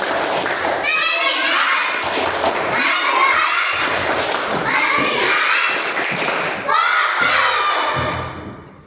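Schoolchildren in a classroom perform the tepuk konsentrasi clapping chant, their voices chanting together in bursts punctuated by sharp, rhythmic group claps and thumps.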